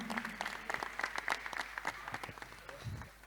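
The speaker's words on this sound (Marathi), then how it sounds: "नाना, जोरदार टाळ्या वाजूया नानांसाठी" An audience at a bhajan competition prize-giving ceremony claps together, a faint, steady patter of many hands heard from a distance, fading slightly at the end.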